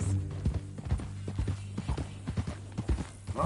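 Horse hooves clip-clop at a steady walking rhythm on ground in Red Dead Redemption 2, each footfall distinct and fairly close, over a low background hum with no talking.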